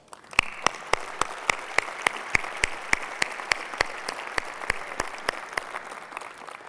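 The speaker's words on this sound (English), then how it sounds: "I think we owe the team at Sony a round of applause." A large audience claps steadily at Sony's E3 2005 press conference, with dense, sustained applause and some louder individual claps standing out across the full stretch.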